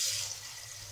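Two litres of water are poured into a pot for boiling pasta, giving a fairly loud, steady splashing hiss that eases off slightly over the second.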